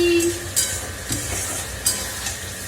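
Ghugni with onion, ginger, garlic and spices frying and being stirred in a pan, a steady close sizzle with occasional scrapes of a spoon.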